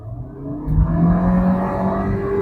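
A 2024 Kia Sonet SX engine swells as the car accelerates after being shifted into sport mode, rising from a low hum into a steady, strengthening whir heard close from inside the cabin.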